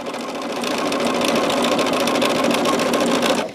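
A sewing machine quilts a finished tester quilt top, running loud, close and continuous for the whole stretch with a steady rapid needle rattle and no pauses.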